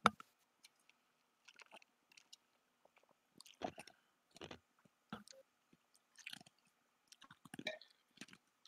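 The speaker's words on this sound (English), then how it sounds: "I can hear your ice crunching." Someone crunching ice up close, a sparse string of crisp bites and crackly chews with quiet gaps between them.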